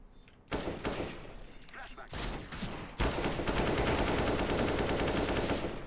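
Gunfire in a first-person shooter video game, with bursts of rapid automatic shots that build into sustained dense firing, loud and close, with a voice speaking over it.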